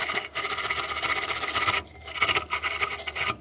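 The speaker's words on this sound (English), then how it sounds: "So grind up that metal a little bit." An angle grinder works the metal at a trailer light contact, a steady close rasping grind that breaks off briefly and then resumes with the same harsh scraping texture.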